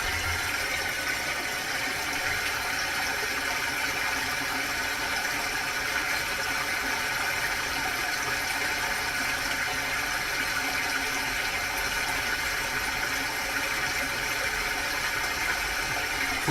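A waterfall keeps up a steady, even rush of flowing water, moderately loud and unbroken, with no voices.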